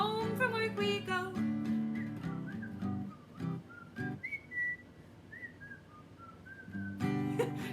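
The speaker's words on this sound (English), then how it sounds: "Told you I'm not very good at whistling" Someone whistles a tune unsteadily, a sequence of clear wavering notes, with sung lines and piano chords just before and after, close and moderately loud.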